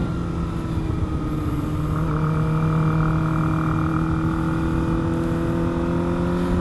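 A Kawasaki ZX25R sport motorcycle fitted with big-bike suspension parts, ridden on the road with a steady, continuous engine drone and tonal whine at constant throttle, loud and close throughout, with wind rush and no talk.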